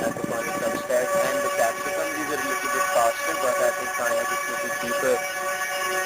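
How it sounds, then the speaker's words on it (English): A train rumbles past close by outdoors in an aquaponics garden, its steady broadband roar and rail noise running continuously under someone talking about plants. "Sorry about the train"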